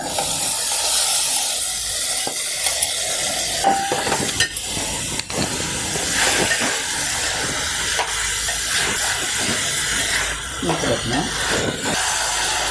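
Cucumber and tomato pieces sizzle in a hot pan over a tempering of onion, green chili and ginger-garlic paste, a loud continuous hiss with intermittent stirring scrapes and a voice talking over it.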